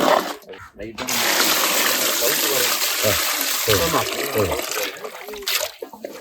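Water splashes and pours steadily for several seconds, a broadband wash of liquid noise with brief gaps, fairly close.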